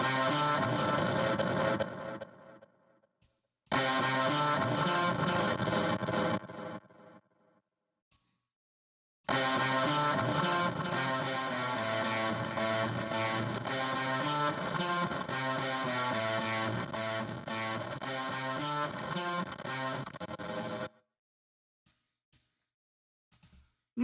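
A synth run through a delay effect plays dense, distorted sustained tones in loud bursts, with abrupt silent gaps between sections and a long middle passage.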